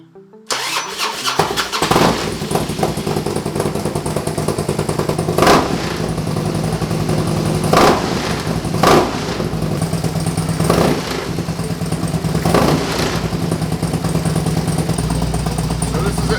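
A cold motorcycle engine with a ThunderMax ECU and S&S exhaust cranks and fires up, then settles into a steady, loud idle around 1200 RPM with a few revving bumps along the way.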